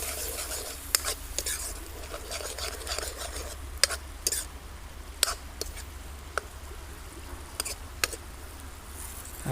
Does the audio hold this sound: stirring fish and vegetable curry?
yes